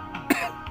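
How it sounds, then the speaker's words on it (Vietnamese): A single short cough, near and moderately loud, heard during a break between songs while a home sound system of British speakers and a Japanese domestic amplifier is being tested. "ho luôn đó"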